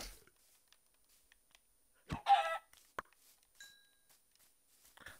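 A Minecraft chicken gives a short burst of clucking amid sparse game sounds, with a few isolated clicks and taps around it in an otherwise quiet scene.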